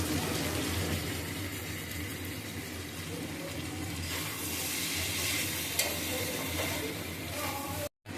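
Curry leaves drop into a pan of frying chicken with garlic and dark soy sauce, giving a steady, loud sizzle with stirring scrapes that continues throughout, with a brief cut near the end.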